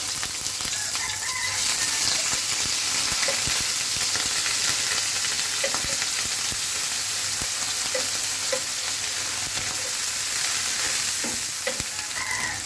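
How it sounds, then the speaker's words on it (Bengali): Small dried sea shrimp frying in mustard oil in a pan, with a steady, close sizzle that runs throughout and light clinks of stirring scattered over it. "এখানে আমি সামুদ্রিক গুঁড়া চিংড়িগুলো ধুয়ে নিয়েছি, এগুলো দিয়ে দেবো।"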